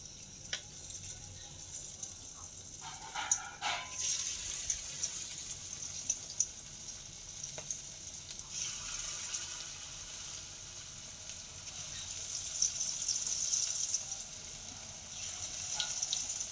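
Onion fritters (peyaji) frying in hot oil, a steady, fairly faint sizzle and crackle running throughout with occasional small clicks.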